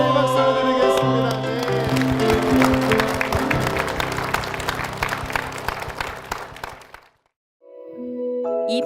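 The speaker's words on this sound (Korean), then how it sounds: "주께 한번 이 박수를 드리겠습니다." A church congregation applauds together, a dense, sustained clapping that gradually fades over several seconds with musical tones underneath, then drops to silence before a soft tonal sound returns.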